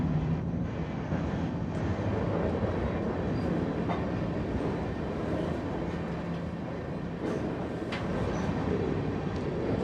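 A freight train rumbles along continuously, a steady low roar with clanking and squeals from the wheels, close by and loud throughout.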